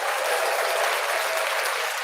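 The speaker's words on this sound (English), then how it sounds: "So let's give her a round of applause." A crowd gives sustained, dense applause, a loud continuous roar of many hands clapping with no talking heard.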